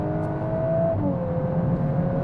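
A 2021 VW Golf R MK8 switched into race mode revs its engine, a close, steady mechanical drone with a tonal whine that shifts pitch partway through, heard without talk.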